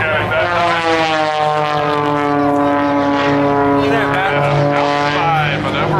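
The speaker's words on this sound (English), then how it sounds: "lining up with that little airplane over upside down, and then coming at that ribbon" A small stunt airplane at a 2012 airshow drones steadily overhead, its propeller engine tone sustained and slowly shifting in pitch, loud and close, while a commentator talks over it.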